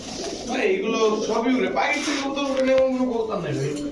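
A Pakistani Jaldar pigeon coos nearby in low, rolling warbles while someone talks over it almost throughout.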